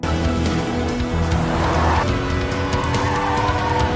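Race cars roar past at a live car race between Sunyang Motors and Daeyoung Motors, with loud, continuous engine noise and tires squealing and skidding throughout.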